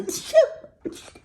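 A single sharp sneeze from one person, close by, followed by a short breath.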